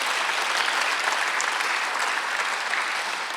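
A church congregation at a Sunday worship service claps together, a dense steady burst of applause filling the room with no speech over it.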